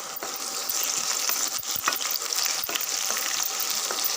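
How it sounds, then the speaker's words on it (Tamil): Sliced large onions and curry leaves sauté in oil in a pan, a dense continuous sizzle with small crackles and the odd scrape of stirring, close and steady, with no talking. "நல்லா ஒரு பாதி அளவுக்கு வெங்காயம் நல்லா வதங்கட்டும்"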